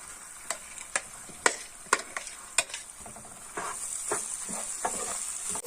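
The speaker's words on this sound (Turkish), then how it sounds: "Salçamızın kokusu çıkarana kadar karıştırıyoruz ve sarımsağımızı ekliyoruz." Tomato paste, garlic and bulgur stirred in a hot pan: scraping spoon strokes in an irregular rhythm over a steady close sizzle that thickens toward the end.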